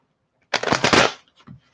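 A quick riffle of tarot cards being shuffled, a brief dense flutter of papery snapping, followed by a soft tap.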